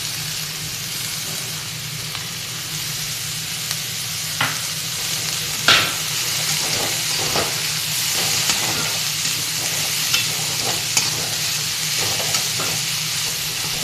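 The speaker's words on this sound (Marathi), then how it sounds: "चांगलं मिक्स करून घेऊ. चांगले हलवूया." Shredded cabbage with chana dal sizzles and fries in a pan while being stirred, a steady close hiss with occasional spoon scrapes and light taps against the pan.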